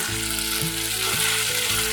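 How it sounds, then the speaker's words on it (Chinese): Dried tofu pressed flat in a pan sizzles steadily as it browns, a loud, close, continuous frying hiss with no talking; it is filling for vegan fresh spring rolls. "铺平，让豆干煎至焦香"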